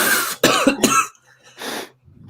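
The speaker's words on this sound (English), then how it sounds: "Homie starts coughing, right?" A man coughs in three hard bursts close to the mic, then one more cough after a brief pause, followed by quiet shuffling.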